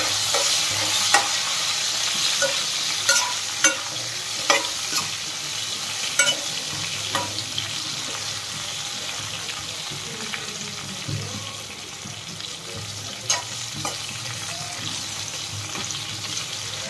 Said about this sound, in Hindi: टिंडे हमारे देखिए बिल्कुल अच्छे से फ्राई हो चुके हैं